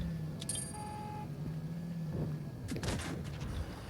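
A single gun blast from a T-54 Mod 1 prototype tank in a video game, a short loud crack with a rumbling tail over steady engine drone, plus a faint mechanical clank earlier.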